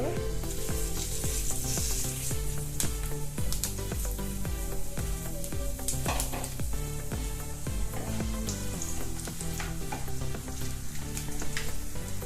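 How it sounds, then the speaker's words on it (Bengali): Dried chillies, bay leaves and five-spice seeds sizzle steadily in hot oil in a pan for an amla pickle, with continuous frying crackle and occasional stirring clicks. "শুকনো মরিচ, 2টো তেজপাতা, 5 ফোড়ন দিয়ে দেব।"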